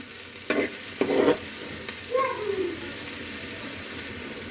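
Chopped onions for paneer bhurji fry in oil in a pan with a steady sizzle, and two scraping stirs of a spatula cut through near the start before the frying settles back to a soft crackle.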